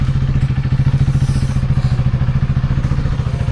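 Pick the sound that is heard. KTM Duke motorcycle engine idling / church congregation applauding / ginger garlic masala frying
KTM Duke motorcycle engine idling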